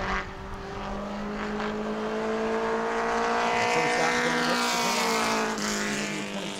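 Mod Mini race car on a qualifying lap at New Smyrna oval, a high-revving engine howl holding a steady pitch as it circles, slowly swelling louder then easing, heard from a distance with no talk.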